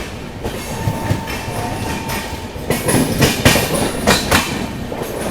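Train wheels clatter over track changes on the outer approach to Ghaziabad aboard the Vikramshila Express, a steady rolling rumble broken by several loud, sharp bursts of clickety-clack in quick succession, heard close from inside the moving train.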